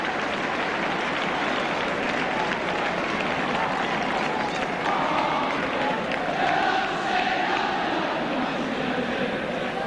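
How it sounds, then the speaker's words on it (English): Steady applause from a large, distant football stadium crowd at a 1978/79 Liverpool v Spurs match, rolling on continuously throughout. "Sympathetic applause for Emlyn Hughes."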